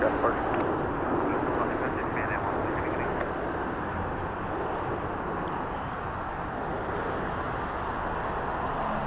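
An airplane at Los Angeles airport producing a broad, steady jet engine roar that holds loud and constant throughout, with a voice speaking over the engine noise.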